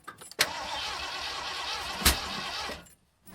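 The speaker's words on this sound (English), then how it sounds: "Backfire." A car engine cranks and coughs with a sharp, loud pop partway through, a single backfire over steady mid-range churning that cuts off abruptly near the end.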